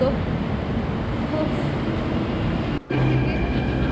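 A metro train at a station platform rumbles steadily and loudly throughout, with a brief dropout near the end, while a voice talks over the train noise.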